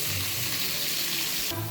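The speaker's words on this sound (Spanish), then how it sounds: "el aderezo se está haciendo de la cebolla y el pimiento" Onion and bell pepper sizzle steadily in hot oil for a sofrito base, a dense, continuous frying hiss up close with no voices, shifting slightly near the end as the pan is moved.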